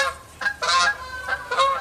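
Several geese honk in bursts over a garden with clay soil, the calls repeating in clusters at moderate distance across the short stretch.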